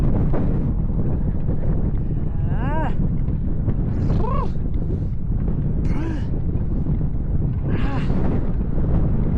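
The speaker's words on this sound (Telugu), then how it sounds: "సో ఈ హెవీ విండ్" Strong headwind buffets a microphone while a cyclist rides in Mongolia, a continuous loud roaring rumble filling the whole stretch, with a few brief whistling or squeaking tones rising above it.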